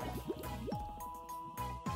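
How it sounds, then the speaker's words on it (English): A cartoon character splashes into a mud pool: wet squelching and dripping liquid sounds mixed with bouncy musical tones, moderately loud with no one talking. "Cover your eyes from the splash, Tucker."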